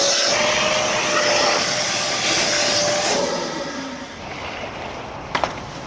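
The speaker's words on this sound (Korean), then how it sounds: "습식 청소기로 제거를 해주고요" A wet vacuum cleaner sucks dirty water off a window pane during window cleaning. Its loud, steady whining roar runs continuously, then eases to a lower, quieter drone near the end, followed by a couple of faint clicks.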